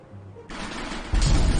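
Gunfire from a World War II game being played, a sudden burst of dense crackling shots that grows louder toward the end, with low rumble beneath.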